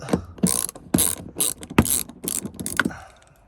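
Close, rhythmic clicking of a hand ratchet loosening a 7mm bolt on a flooded 2007 Suzuki XL-7, about eight quick back-and-forth strokes with sharp metallic ticks and no talk.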